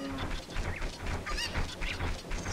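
Cucco chickens in Zelda: Ocarina of Time, a run of squawking, honking clucks repeating irregularly over game background sound, moderately loud.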